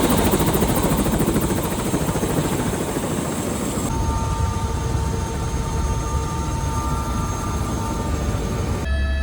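A helicopter taking off, its steady, loud rotor and engine roar continuous throughout with a dense thrumming texture and no voices.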